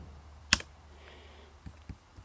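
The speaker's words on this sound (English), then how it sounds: "I'm going to hit D on my keyboard" A single sharp keypress on a computer keyboard, one clear click followed by a few faint softer taps in a quiet room.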